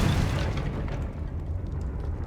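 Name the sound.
Confringo spell explosion from a Harry Potter video game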